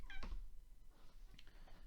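A house cat meows twice in short, clear calls, the first louder and closer and the second a little softer, over a low steady room hum with no talking.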